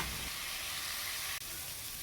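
Ground spice paste fries in oil with lime leaves, bay leaves, lemongrass and galangal for pindang tongkol, a brief, even, close sizzle and hiss with one tiny break near the end.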